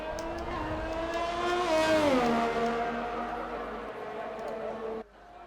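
An F1 race car in a video game, running on intermediate tyres as it heads out onto the track at the Belgium round, whines steadily with a rising and falling engine pitch, then cuts off abruptly near the end.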